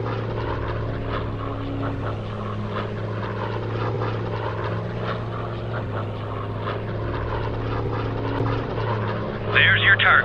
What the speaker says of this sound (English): Now get that plane in the air.